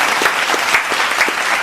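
Studio applause greeting a podcast guest: a small group clapping steadily and close, a dense patter of hand claps with no talking.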